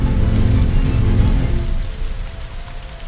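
Heavy rain pouring down outside a small roadside hotel, a dense loud hiss with low rumbling that eases slightly toward the end, no voices.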